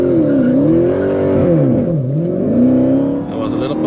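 A Dodge Hellcat's supercharged engine revs and pulls hard, its pitch rising and falling in sweeping waves, loud and close throughout.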